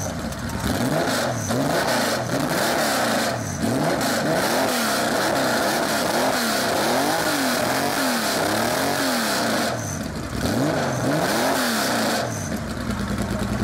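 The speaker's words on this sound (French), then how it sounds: "C'est la caractéristique du 6 cylindres Porsche qui est le moteur le plus mythique au monde pour moi." A Porsche 911 SC air-cooled six-cylinder with an RSR racing exhaust revs repeatedly up and down, loud and close, with rising and falling engine pitch and brief pauses between blips.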